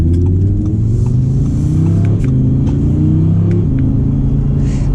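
Audi R8 Spyder V10 with its naturally aspirated engine revving loud and close, a deep continuous roar that climbs in pitch in stepped rises with brief dips as it shifts.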